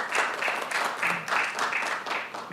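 Council meeting attendees give a brief round of applause, a steady patter of hand claps in a room lasting a couple of seconds.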